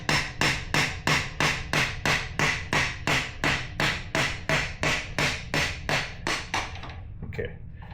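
A hammer strikes a screwdriver held against a rear axle in about fifteen steady, evenly spaced metallic taps, close and moderately loud, with a brief clatter as they stop.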